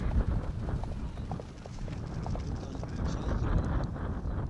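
Hooves of a horse clip-clop steadily on the track, an even rapid beat that carries through the clip at moderate distance with light wind rumble on the microphone.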